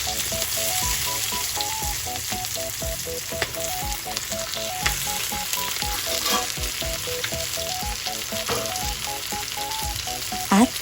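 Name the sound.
cooked pork returned to the frying pan, sizzling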